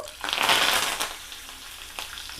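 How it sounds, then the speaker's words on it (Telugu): Curry leaves dropped into hot oil for cabbage pickle, a loud crackling sizzle that flares up quickly and then settles into softer spitting. "కొంచెం వేగితే కరేపాకు వేస్తాను ఇప్పుడండి కరేపాకు"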